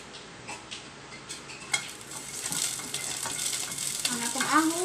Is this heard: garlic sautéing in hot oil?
yes